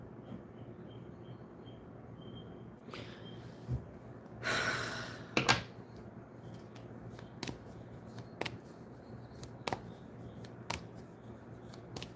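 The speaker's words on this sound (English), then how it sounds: "Yep, you heard me shuffling, and this card just popped out upright." Tarot cards being shuffled close by, with a long riffle burst and scattered sharp flicks and taps over a quiet background.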